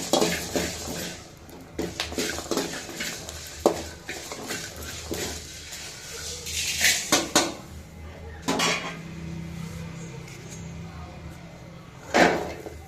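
Dried chillies, coriander seeds and garlic are dry-roasted in a pan, heard as close, intermittent scraping and clanking of a metal spoon against the pan, with louder knocks now and then.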